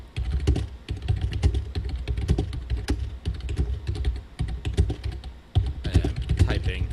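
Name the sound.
typing on a computer keyboard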